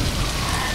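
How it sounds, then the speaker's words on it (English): Rain pours down in a dense, steady hiss, loud and close, with a low rumble beneath it through the whole brief moment. "Rain!"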